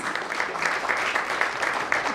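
Audience applause at a medical networking launch event, a continuous patter of many hands clapping at moderate level, with a voice or two faintly mixed in.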